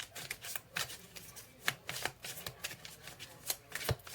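Tarot cards are shuffled by hand up close, giving quiet, irregular riffling and slapping bursts with soft pauses between them.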